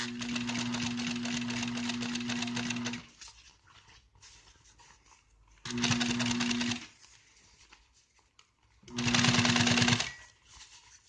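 A sewing machine runs top-stitching along an automotive seat upholstery seam in three bursts: a long steady whirring run of about three seconds, then two shorter runs after quiet pauses, close and clear.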